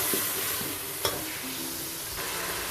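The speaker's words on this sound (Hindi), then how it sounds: "मैं गोश्त के साथ ही गोश्त में जो अदरक और लहसुन की पेस्ट वो भी शामिल कर लेता हूँ और इसको मैं इसके साथ भूनता हूँ" Beef fries with ginger-garlic paste in a pot for a potato curry, giving a steady close sizzle with a few scraping strokes and one sharp knock of a stirring spoon.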